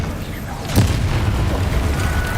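A Bombarda blasting spell detonates in Hogwarts Legacy, a single loud boom with a sharp onset near the start, followed by a sustained rumbling, crackling tail over a busy game background.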